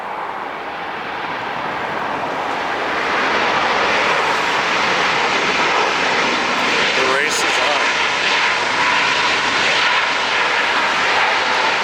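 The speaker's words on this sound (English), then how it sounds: "every time we got a plane landing in front of it" A plane landing at LAX, heard from a bridge as a steady, loud jet engine roar that swells after a few seconds and holds, with a voice talking briefly over it.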